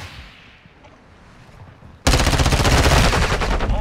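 Gunfire in the Modern Warfare 2 beta video game: a sudden burst of loud, rapid automatic fire erupts after a quieter stretch of ambient game noise and keeps going as a dense, continuous rattle.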